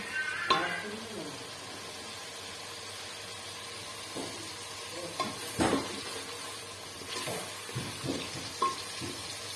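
Spices stir-fried in a pan for a bottle gourd curry, with a steady soft sizzle and scattered scraping stirs and clinks of a utensil against the pan, close and moderate in level, with no talk over it.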